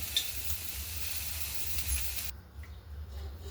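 Broccoli cooks in oil in a kadhai with a soft, steady sizzle and hiss for a couple of seconds, then the sound drops away quickly to near quiet.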